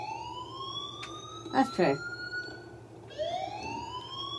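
An alarm siren in the video game Life is Strange wails steadily in the background, rising and falling, with a person talking briefly over it partway through.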